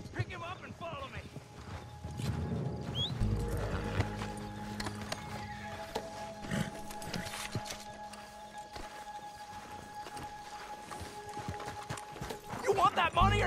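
Horse hooves clip-clop steadily in Red Dead Redemption 2 online, with occasional neighing, under continuous talk and background game sounds.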